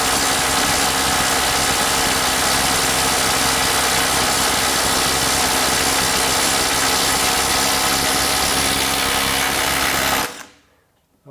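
A Skil IW5744 PWRCore or DeWalt DCF902 12V impact wrench hammers a fastener in a torque test, giving a loud, dense, unbroken mechanical rattle for about ten seconds before cutting off abruptly.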